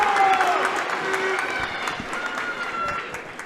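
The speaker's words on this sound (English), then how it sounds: "Big crowd as usual on Páirc Tailteann" Big crowd at Páirc Tailteann stadium during a Meath vs Kildare Leinster Senior Championship Gaelic football match, a steady loud wash of crowd noise with cheering and whistles throughout.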